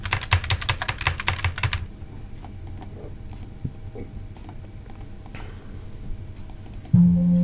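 Rapid computer keyboard typing, dense and close for the first two seconds, then sparse scattered keystrokes and clicks during data entry in an Excel automation for a crop insurance portal, ending with a short low hum.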